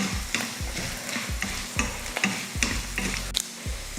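Gooseberries and urad dal being sautéed in a pan for chutney, with a spoon scraping and clacking against the pan in a repeated rhythm over a soft frying sizzle, heard up close with no talking.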